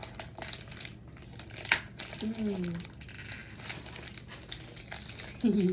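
Gift wrapping paper crinkles and rustles in soft, irregular bursts close by, with one sharper crackle and faint voices in the background.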